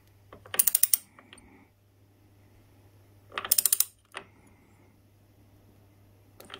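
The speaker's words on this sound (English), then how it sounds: "that's just to snug down the triple clamp with the big nut" Ratchet wrench snugging the large triple clamp nut on a Honda CB750 K2 motorcycle, heard as two quick bursts of close, crisp clicking about three seconds apart, with a single click after each burst and a steady low hum beneath.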